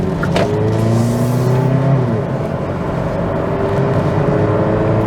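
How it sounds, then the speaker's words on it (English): A 2022 Kia Niro plug-in hybrid accelerates to about 40–45 mph, its engine drone climbing in pitch for the first two seconds, then holding a steady, fairly loud hum with road noise. "we're gonna check out the acceleration"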